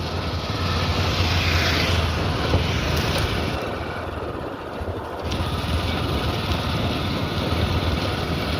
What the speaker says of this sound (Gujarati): અને ટ્રેક્ટર આવે છે હવે સામે.